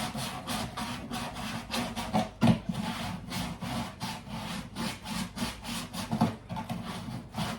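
A sponge sanding block is rubbed by hand over wood while a homemade bakki shower is built, giving a close, rhythmic scrubbing of quick back-and-forth strokes with a few louder knocks.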